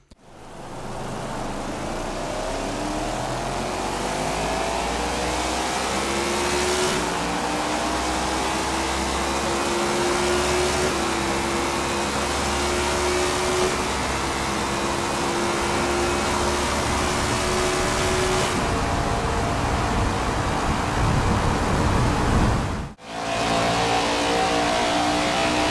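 A stock car engine in the racing video game NASCAR 21: Ignition roars continuously, revving up and down through gears, loud and close, with a brief drop near the end before it climbs again.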